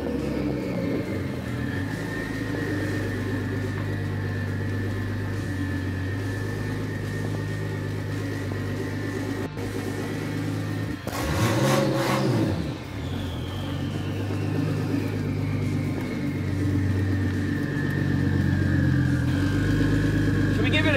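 A Ford XR6 Turbo with an upgraded hydraulic handbrake and brake system drives for a brake test, its engine holding a steady droning hum throughout, broken by a brief louder surge roughly halfway through before settling back.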